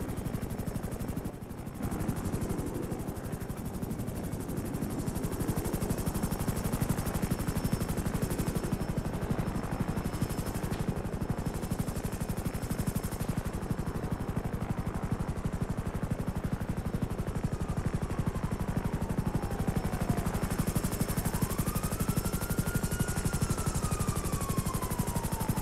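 Continuous rhythmic thumping of helicopter rotors dominates throughout, with a steady engine whine and occasional sweeping tones layered over it.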